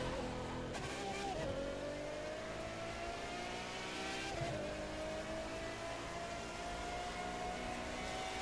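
Racing car engines drone steadily in The Crew 2, a sustained revving roar with rising and falling pitch as gears shift, loud and continuous throughout.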